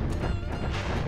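Dinosaur-like enemies bursting one after another in Spyro 2: Ripto's Rage, a dense, loud crash of overlapping game explosion effects, short and continuous.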